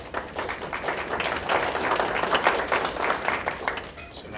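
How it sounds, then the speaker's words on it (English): Audience applause at a panel discussion, a dense wash of clapping running steadily for several seconds and thinning slightly at the end, with some voices mixed in. "So now we're getting applause,"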